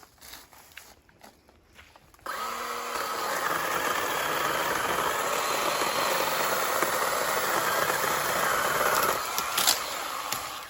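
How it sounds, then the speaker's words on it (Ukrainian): A TITAN TTT831HDC 18V cordless pole pruner starts after a couple of seconds of handling noise, then runs with a steady buzzing drone while cutting a hazel branch. "Пробуємо трошки зараз щось зрізати будемо."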